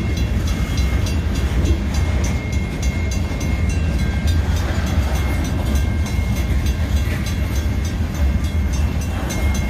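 A train rolls steadily past, a loud continuous rumble with faint rhythmic clatter from the wheels on the track.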